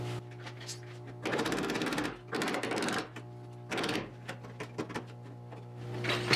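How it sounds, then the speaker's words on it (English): Bursts of crackling, buzzing MIG-style welding on the rear valance of a 1974 Triumph TR6, three longer sizzling runs and a few short tacks over a steady low workshop hum. "now we can weld this in place"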